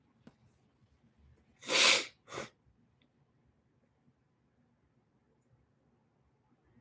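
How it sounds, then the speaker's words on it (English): One person sneezes in a quiet room: a sharp, loud burst, then a shorter second burst just after. No other sound follows. "Oh, I feel a sneeze coming on."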